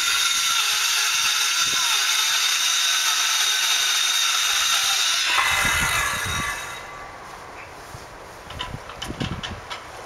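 Power tools, a circular saw and a drill, cutting out and boring holes in a piece for a backyard observatory pier; a loud sustained whine for about five seconds, then quieter intermittent thumps and bursts.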